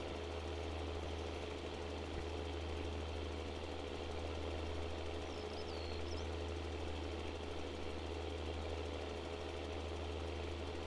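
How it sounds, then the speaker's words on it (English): In Farming Simulator 19, a tractor engine idles and rattles along with a steady low, mechanical drone. The vibrating chug stays constant and fairly quiet, with no talk over it. "I like the way it rattles along there."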